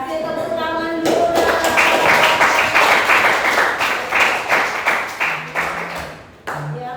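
A burst of clapping from a group fills the room for several seconds, then tapers into scattered claps as a voice begins.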